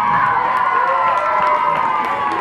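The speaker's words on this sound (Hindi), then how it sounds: "जोरदार तालियों से इनका अभिवादन करेंगे।" Crowd noise and cheering at a prize distribution for a football tournament in Gumla, a steady loud wash of voices lasting throughout with scattered claps.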